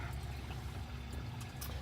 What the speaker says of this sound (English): the water comes through the filter socks and then into this square here